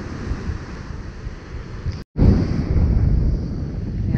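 Pacific Ocean waves break loudly and steadily on a lonely beach, a continuous rushing roar with wind buffeting the microphone and a brief dropout midway.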